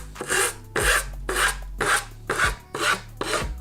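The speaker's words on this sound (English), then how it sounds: "Just cutting off a bit of excess before I start the filing process." A hand file rasps across the edge of a McGill Flight Deck skateboard deck in seven steady, loud back-and-forth strokes, close up, with short gaps between each pass and no talking.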